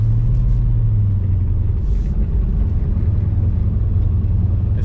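Car engines rumbling at low speed while driving around a drift event course, a steady close drone of motors with no talk.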